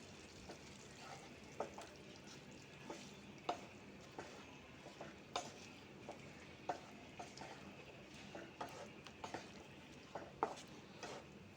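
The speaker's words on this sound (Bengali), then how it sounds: "তো এটা নেড়ে চেড়ে ভালো করে মিশিয়ে নিয়েছি" Poppy seed paste being stirred into potatoes and vegetable stems in a pan with a spatula, faint scraping and light sizzling ticks recurring at an irregular, fairly quick rhythm, quiet and close.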